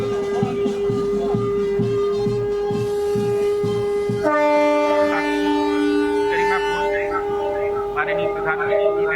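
A train horn sounds as trains pull away on an inaugural run to Kevadia, a long, steady tone held for several seconds that shifts pitch partway through, with a voice speaking over it.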